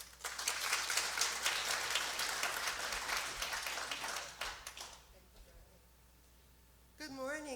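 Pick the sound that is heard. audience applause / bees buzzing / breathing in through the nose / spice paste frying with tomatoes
audience applause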